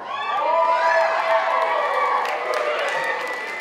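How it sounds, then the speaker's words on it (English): An audience at a high school varsity and JV dance team performance cheers and shouts in a sustained, loud wash of high voices with scattered whoops, holding steady for several seconds. "We appreciate your cheers and applause"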